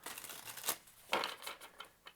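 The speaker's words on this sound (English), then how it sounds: "Last shuffle for Capricorn." A deck of tarot cards is shuffled close by, quiet riffling and flicking with a few sharper snaps of cards, all soft and with no voices.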